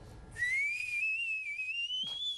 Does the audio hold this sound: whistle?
yes